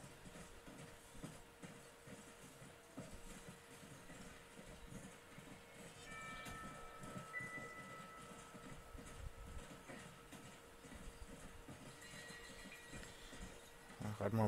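A train rolling on rails in the video game Red Dead Redemption, a low rumbling run with faint rhythmic clatter and some brief metallic squealing tones, moderately quiet and steady throughout.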